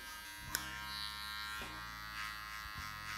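Wahl Senior hair clippers with an open blade hum steadily at close range, a constant electric buzz with slight shifts in pitch as they cut hair.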